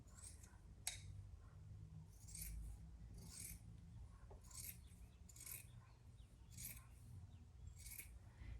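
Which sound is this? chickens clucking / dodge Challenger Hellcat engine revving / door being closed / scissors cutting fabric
scissors cutting fabric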